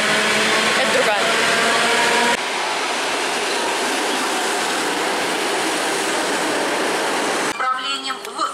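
Loud, steady rushing roar of an electric commuter train passing close by, broadband and continuous, easing off near the end as voices briefly emerge.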